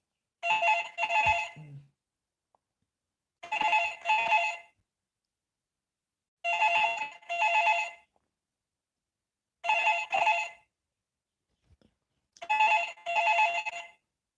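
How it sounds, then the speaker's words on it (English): A telephone rings in five evenly spaced double-ring bursts, each a pair of bright electronic trills, with silence between them and no talking. "if the phone rings now, is that a real call or is it the matrix?"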